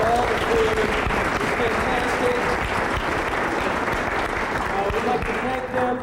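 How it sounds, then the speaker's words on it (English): Sustained crowd applause for the sponsors at a community benefit evening, a thick even wash of many hands clapping with faint voices mixed in, holding steady to the end. "One more time, round of applause for the sponsors."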